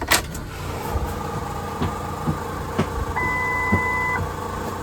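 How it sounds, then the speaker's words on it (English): Ford 6.0 Powerstroke truck with the key switched on, a struggling fuel pump producing a steady low electrical hum with periodic clicks and a brief thin whine, recorded close inside the truck. "The fuel pump's struggling right here."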